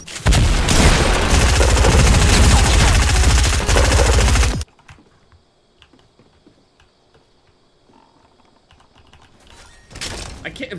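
Rapid automatic gunfire in Fortnite Battle Royale bursts loudly for several seconds, then cuts to near silence, with a short burst of shots returning at the end.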